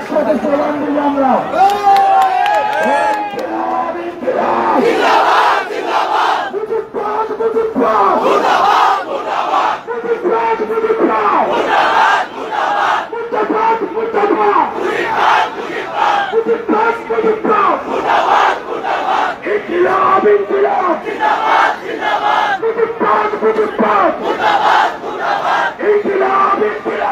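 A large crowd chants slogans in unison at an NCP political rally in Gopalganj, loud and rhythmic, with shouted call-and-response phrases carrying on without a break.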